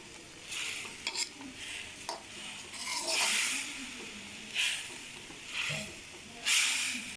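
Pumpkin halwa (kaddu ka halwa) stirred and roasted in a pan, with a steady close hiss and sizzle, scraping strokes recurring every second or so and a few louder bursts of sizzle.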